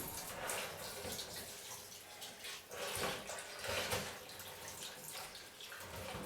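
Water is poured into a fish tank as a steady, close splashing rush that swells and eases over several seconds, with no talking.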